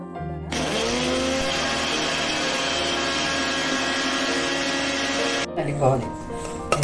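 A mixer grinder whirs loudly and steadily while grinding fennel seeds with rock sugar for a fennel sherbet, then cuts off abruptly near the end, leaving brief clatter and room noise.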